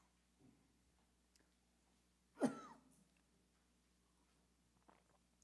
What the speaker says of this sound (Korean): 기관지가 좀 약해서 기침하는 거니까